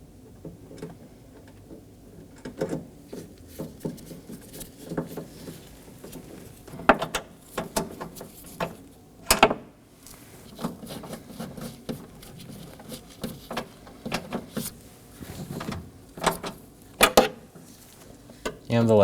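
Fasteners are threaded by hand onto the mirror studs of a 2020-2027 Toyota Corolla: quiet, scattered metallic clicks and light taps at an irregular pace, with soft handling noise between them.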